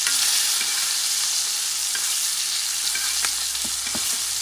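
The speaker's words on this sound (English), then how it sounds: "And that butter I'm going to cook maybe for a minute and a half." Garlic butter sizzles steadily in a pan for a ribeye dish, a dense continuous crackle with a few sharper pops near the end, close and fairly loud with no talking.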